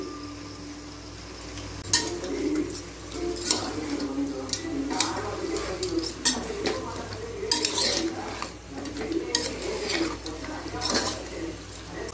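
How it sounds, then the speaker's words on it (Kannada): Chicken pieces from an egg-laying hen fry in a pan, with a spoon repeatedly scraping and clattering against the metal over a faint, steady sizzle; the stirring is close and irregular. "ಇದು ಮೊಟ್ಟೆ ಕೋಳೆಯಲ್ಲಿ ಫ್ರೈ ಮಾಡ್ತಾ ಇರೋದು"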